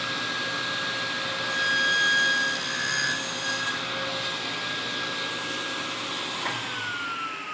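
A table saw runs steadily through a cut in wood while building cabinets, a constant whining motor hum with a tonal ring that holds for several seconds and fades slightly near the end, no voices.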